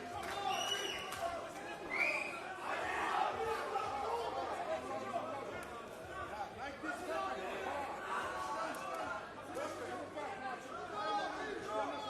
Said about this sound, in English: You can hear behind me, ladies and gentlemen, people cheering.